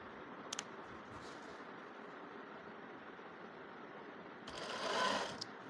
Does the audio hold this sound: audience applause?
no